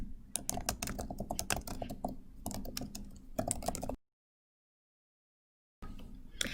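A message being typed on a computer keyboard: rapid, close key clicks in an uneven rhythm for about four seconds, then a stretch of silence, and typing resumes briefly at the end.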